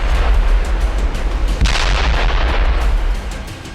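Missile strikes in a war zone, heard as loud, continuous rumbling blasts and booms with a sharp, louder detonation in the middle, followed by sustained roaring impact noise that eases slightly toward the end.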